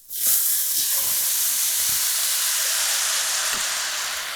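Dry white wine poured into a hot pan with browned chicken bits for a creamy pesto dish, a sudden loud steamy hiss that swells fast and holds steady for several seconds, up close.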